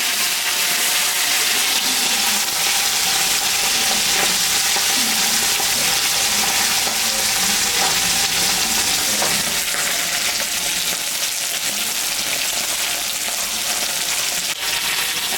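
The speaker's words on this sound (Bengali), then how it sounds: "মাছটা ভাজা হয়ে গেছে" Bata fish frying steadily in hot oil in a pan for a fish curry with bottle gourd, with a constant loud sizzle and some scraping stir noises as the fish is turned over.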